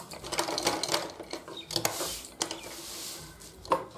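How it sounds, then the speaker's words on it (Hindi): Sewing machine stitching a double seam on a cloth shopping bag, a close, busy mechanical whir with irregular clicks and bursts over about four seconds, no talk. "तो मैं इसे डबल कर देती हूँ सिलाई को।"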